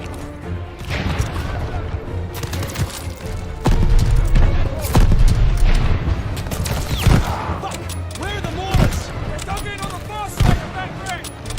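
Gunfire from Call of Duty Vanguard at the El Alamein mission, repeated sharp shots and heavy booms in irregular bursts over a dense battlefield din, with someone talking over parts of it.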